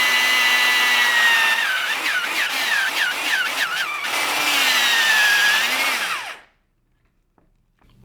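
An underpowered electric drill in a drill guide bores into mahogany, whining loudly and close, bogging and pulsing repeatedly as it strains through the wood, then surging again before cutting off abruptly into silence.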